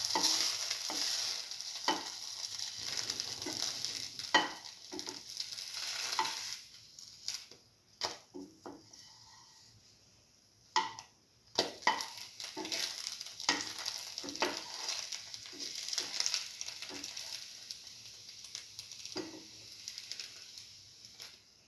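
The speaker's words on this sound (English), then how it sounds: "Let it fry." Cinnamon French toast fries in a pan with a steady, soft sizzle and light crackle, broken by intermittent scraping and stirring clicks from close by; no one speaks.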